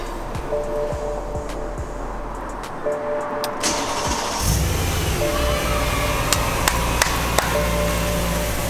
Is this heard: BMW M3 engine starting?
yes